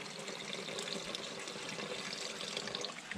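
Plenty of water pours into a cooking pot for piranha broth, a steady close splashing rush running throughout with no talk.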